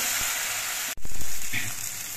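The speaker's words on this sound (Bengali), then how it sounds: "এবার সব মশলা একসঙ্গে কিছুক্ষণ কষিয়ে নিতে হবে।" Spices fry together in a pan for a jackfruit-seed dhoka dalna with green chillies, making a soft, steady crackling sizzle that briefly cuts out and then returns a little louder with faint stirring knocks.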